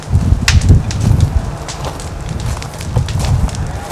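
Strong gusting wind buffets the microphone outdoors at night during a wildfire, a loud, low rumbling roar with crackling bursts.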